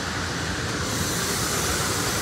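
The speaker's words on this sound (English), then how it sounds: "Now the train is departing. The train is about to depart." A SEPTA passenger train pulled by two locomotives departs a station in Bucks County, giving a steady, loud, broadband rumble and hiss that holds evenly throughout, close by with no voices.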